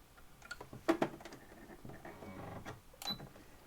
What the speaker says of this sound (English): Stitching backwards is the way to lock your stitches in so the stitches won't come out